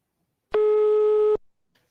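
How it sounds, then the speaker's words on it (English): A telephone rings from the floor in an animated Gacha story: one loud, steady electronic tone lasting under a second, heard alone with no talking. "You just hear a phone from, like, the floor."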